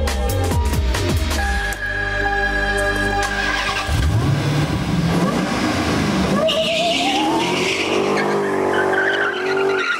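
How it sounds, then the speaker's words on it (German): A Geiger-tuned supercharged Dodge Challenger making 520 hp roars close by as its tires skid and squeal, the engine revving and surging over the screech. "Ein Dodge Challenger."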